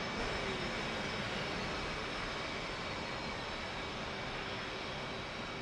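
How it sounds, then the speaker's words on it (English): Twin F-18 jet engines run steadily after spool-up in a flight simulator cockpit, a constant broadband roar with a faint tonal whine, unbroken and even throughout, no speech. "Both engines are spooled up."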